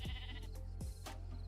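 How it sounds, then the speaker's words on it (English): Sheep bleating in a Minecraft-style video game, two loud close bleats with a short pause between them, heard alone without talk. "That's a very loud bah."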